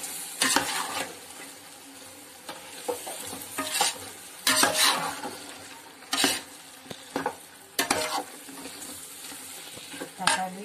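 Chopped tomatoes are fried for chicken biryani, with a soft sizzle running underneath as a spoon scrapes and stirs the pan in repeated sharp bursts, fairly close and quiet.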